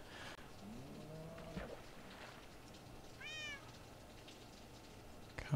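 A baby ocelot in Minecraft gives a few faint, short meows over a steady low background hum, with a brief pause between calls.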